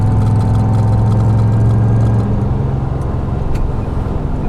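A 1972 Jaguar E-Type 2+2 V12 drives with a loud, steady engine drone from inside the car, its pitch shifting partway through as it changes gear.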